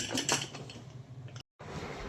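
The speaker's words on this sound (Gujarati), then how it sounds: "જો કુકરમાં મૂકી દીધી અને હવે બંધ કરી દઉં." Someone fits and closes the metal lid of a pressure cooker holding corn, making a soft clatter and scraping of metal on metal in a quiet kitchen, with a brief silent gap near the end.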